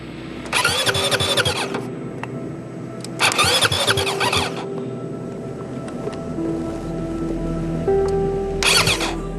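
Dakar rally motorbike being cranked after an electrical breakdown, with three loud bursts of starter grinding and squealing separated by pauses over a low idle-like hum, no voices.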